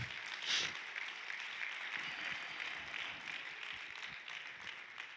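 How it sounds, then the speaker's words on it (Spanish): A congregation claps during a sermon, a steady, fairly soft wash of applause that carries on evenly for several seconds with no speech over it. "sin dar la explicación ya aplaudieron"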